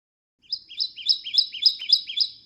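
A Kentucky warbler sings a clear, close song of about seven rapid rolling upslurred phrases in an even rhythm, with no other sound around it.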